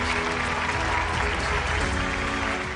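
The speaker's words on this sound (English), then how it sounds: "with a standing and clapping ovation, let's welcome Toro Biriya, Onyibe." Audience applause at a live tech-community event, a sustained dense wash of clapping at steady loudness throughout, with no speech over it.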